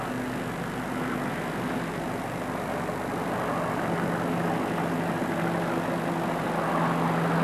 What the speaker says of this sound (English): they're jet propelled, those boats.